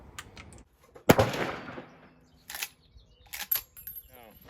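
Sharp gunshot from an 1873 Winchester lever-action rifle chambered in .38 Special, one loud near crack with a short echoing tail, followed by fainter clicks and clacks of the action being worked.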